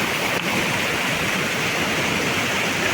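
A waterfall in Keonjhar district roars as a steady, dense wash of falling water, loud and close, filling the whole stretch without pause or voices.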